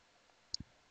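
A computer mouse clicks an OK button in Windows 7 with two quick, close, faint clicks in a quiet room.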